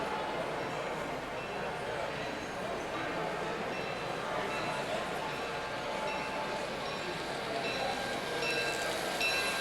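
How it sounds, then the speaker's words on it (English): An HO-scale model train runs along a layout at a model railway show, a steady rumbling clatter of wheels on track that holds for the whole stretch amid the busy hall's background chatter. "Oh, I hear another train coming."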